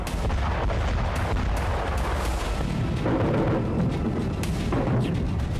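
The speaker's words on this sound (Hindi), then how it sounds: "क्रीमिया के उसी तट पर एक बार फिर भयंकर धमाके हुए।" Heavy booms and cracks of explosions on the Crimean coast near Sevastopol, like artillery fire, thud repeatedly through a continuous low rumble, with sharp bursts scattered throughout.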